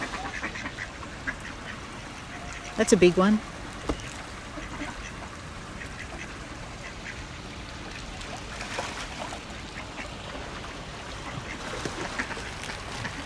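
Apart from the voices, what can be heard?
ducks quacking in Japanese garden pond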